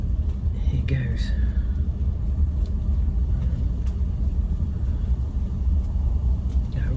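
A Bentley Turbo R with a 6.75-litre turbocharged V8 driving gently, a low steady rumble close by with faint intermittent sounds, no speech.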